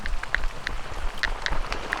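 Rain patters down outdoors during a fishing trip, soft steady hiss with scattered sharper drops striking a nearby surface at irregular intervals.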